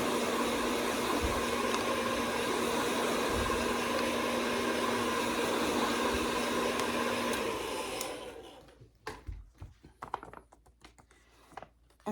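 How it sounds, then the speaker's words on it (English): A hair dryer blows with a steady, loud whooshing roar for about eight seconds, then shuts off, leaving faint clicks and handling noises. "But I brought my blow dryer out because I don't have a lot of time."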